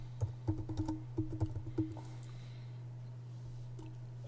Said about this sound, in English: I'm going to type something else